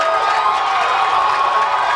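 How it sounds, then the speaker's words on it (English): A loud football crowd roars and cheers continuously at a high school game between Kamiakin and Sunnyside, a dense sustained wash of voices filling the whole moment. "This crowd is getting loud."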